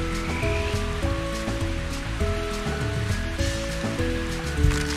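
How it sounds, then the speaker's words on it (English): Rain ambience in the Nintendo 64 game Mario Golf 64 patters softly beneath a steady synthesized music track, with no talking. "Wind's pretty strong, it's raining."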